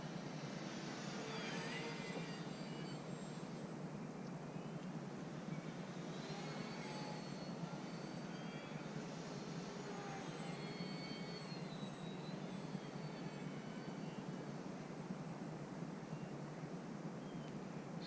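A FlightLine Spitfire Mk.IX RC model warbird with retractable gear, running on a 4S battery, flies nearby with a steady electric motor and propeller whine, continuous and fairly loud throughout with rising and falling pitch as it passes.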